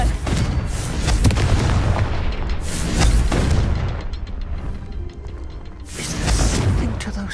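Confringo fire spell blasts in Hogwarts Legacy, a run of loud, close booming explosions with crackling bursts that come in several waves.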